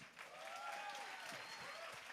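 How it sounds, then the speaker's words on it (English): An audience at a real estate conference keynote in New Jersey applauds with steady, even clapping. The sound is faint and distant, with some voices mixed in. "give him a round of applause"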